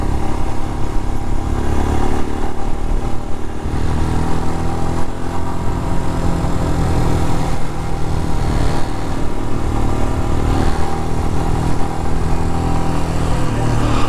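Royal Enfield Scram 411 motorcycle climbing a hill in second gear, a loud, steady single-cylinder thrum with mechanical clatter and rushing wind, continuous throughout with no talking.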